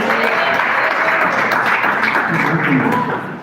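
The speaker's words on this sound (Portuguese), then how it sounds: "Mais palmas para Jesus." A church congregation applauds in a dense, continuous wash of clapping, steady and close, with voices mixed in beneath it.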